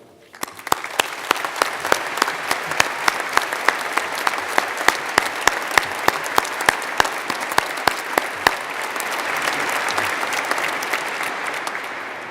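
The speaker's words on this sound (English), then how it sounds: "may we please start by applauding all our graduands" Graduation ceremony crowd in a cathedral claps for the graduands: sustained, reverberant applause with many sharp individual claps standing out near the front, holding steady throughout without talk.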